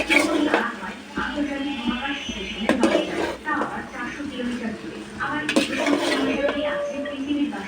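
Egg noodles are tossed with spices in a pan, giving soft scraping and clinking of a utensil against metal in intermittent strokes, close and fairly quiet beneath ongoing speech.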